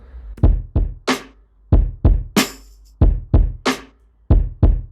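A bouncy, simple kick drum groove for a gritty gospel-sample beat thumps loud and close, with deep punchy hits in a syncopated pattern and a few brighter clicks on top, no talking.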